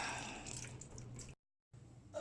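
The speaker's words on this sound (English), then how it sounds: "when I cut into the hot pipe, it's still dripping." Water drips from a cut hot-water pipe in a home plumbing line after the system has been drained; a faint, steady trickling and dripping that drops out briefly, then resumes.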